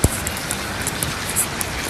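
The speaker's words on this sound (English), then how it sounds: "It's raining and it's sunny." Rain falls in sunny weather outdoors in Japan, a steady close patter of drops on surfaces with occasional louder individual hits, and no voices.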